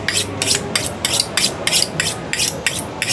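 A knife trimming fat off the fat cap of a brisket at a KCBS barbecue contest, a close, rhythmic series of about ten rasping scrapes at a steady pace, with no talking.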